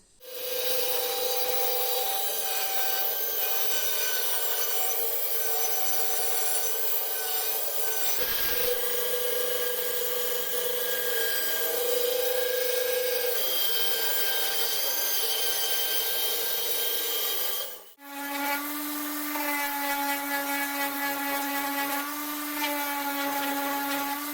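A loud, steady whine of a band saw cutting an oak board runs continuously, with a brief break near the end before a higher-pitched running tone resumes.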